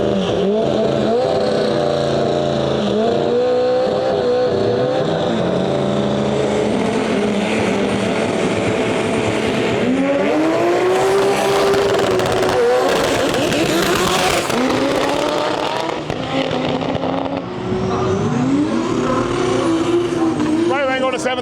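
Drag race cars roaring down the strip during World Cup Finals qualifying, a loud continuous engine blast with rising and falling pitch sweeps as cars pass, under a track announcer's commentary.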